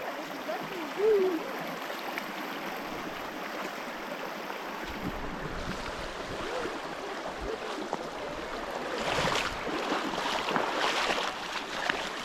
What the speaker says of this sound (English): River's definitely rushing pretty good.